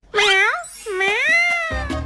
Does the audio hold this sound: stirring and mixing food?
no